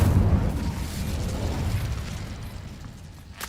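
Hogwarts Legacy fire spell Incendio cast in-game: a loud booming burst at the start that rolls into a crackling, roaring rumble and slowly fades, with a small sharp pop near the end.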